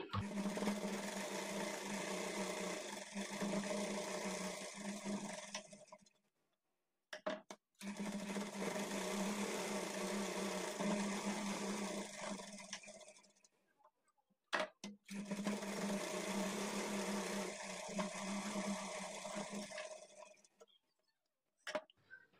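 A sewing machine stitches the side seam of a blouse in three steady runs of about six seconds each, separated by brief pauses, close and fairly loud with no talking.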